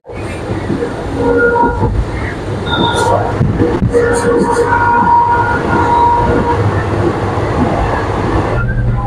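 The 05608 Guwahati-Mendipathar passenger train in Meghalaya rumbles steadily, with a continuous low roar and occasional higher rattles and squeaks from the carriages.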